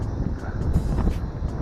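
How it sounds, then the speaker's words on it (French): Strong outdoor wind buffets the microphone during a test flight of a small foldable RC drone, a low, rumbling roar with gusting bursts that runs steadily throughout. "Je pense que vous allez l'entendre, on a énormément de vent."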